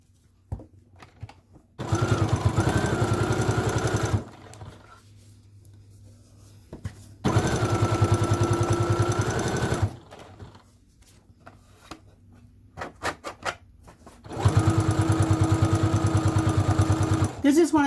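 A sewing machine stitches a long length of a dog leash in three loud, steady bursts of rapid mechanical hum, each lasting a few seconds, separated by quiet pauses with light handling noise.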